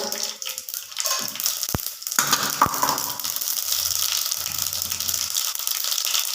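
Mustard seeds go into a spoonful or two of groundnut oil for tempering, a couple of sharp clicks followed by a steady, close sizzling hiss that keeps up to the end.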